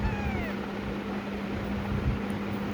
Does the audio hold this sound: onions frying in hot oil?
no